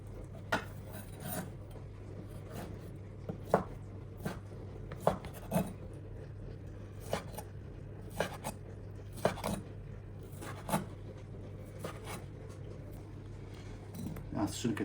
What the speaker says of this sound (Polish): Szynkę kroję w taką kostkę.